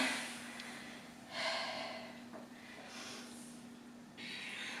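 Forceful breaths exhaled during a glute circuit workout, a few breathy hissing puffs that are faint and close, separated by short pauses over a quiet steady hum.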